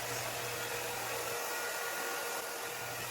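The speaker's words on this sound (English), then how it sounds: "So I got this hairbrush or the hair dryer brush to make my job easy." A hot air brush hair dryer blowing on a high setting gives a steady, close, uninterrupted whooshing roar with a faint motor hum underneath, and no one speaks.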